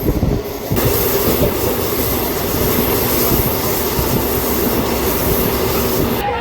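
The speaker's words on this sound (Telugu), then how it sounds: "లింగనేని దొడ్డి రైల్వే స్టేషన్కి వచ్చాము, బయలుదేరిపోయాము" DEMU train leaving Linganeni Doddi railway station, a loud, continuous roar of engine and wheels on rails filling the whole stretch with a constant high hiss, heard from on board.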